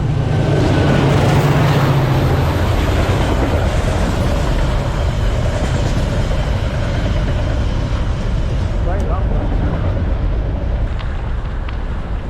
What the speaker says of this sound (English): This is the first train I see, finally.